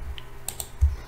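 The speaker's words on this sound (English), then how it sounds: "Then hit I, Control I in your keyboard to join." Computer keyboard keys being pressed for a shortcut in design software, a couple of quick light clicks close by with no one talking.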